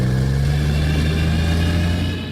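A car engine revving hard in a radio advertisement for an auto repair shop, a loud continuous mid-pitched roar with strong low harmonics that holds steady and then eases off slightly at the end.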